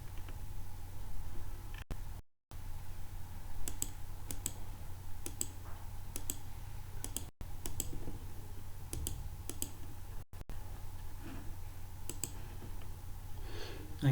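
Computer keyboard keys tapped for a Revit trim shortcut, a few sparse, crisp clicks spread over a quiet background with faint low hum.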